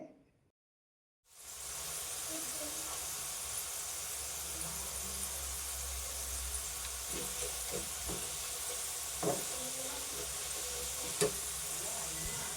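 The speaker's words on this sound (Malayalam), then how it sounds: "ആ എണ്ണ ഒന്നുകൂടെ ചൂടാക്കിയിട്ട് ഈ ഫ്രൈസ് ഒന്നുകൂടെ ഇട്ട് കൊടുത്തിട്ട് നമുക്ക് ഒന്നും കൂടെ ഒന്ന് ഫ്രൈ ചെയ്തെടുക്കാം" French fries deep-frying a second time in hot oil, a steady dense sizzle and bubbling that starts after a brief silence and runs evenly, with a few soft clinks of stirring.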